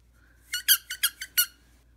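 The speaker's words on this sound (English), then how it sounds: "Does this one squeak?" A squeaky dog toy squeaks six times in quick, uneven bursts, sharp and close, with no talking.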